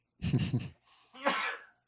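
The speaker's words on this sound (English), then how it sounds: "I feel like I got to sneeze" A single close sneeze: a voiced, breathy build-up, a short pause, then a sharp bright burst of air.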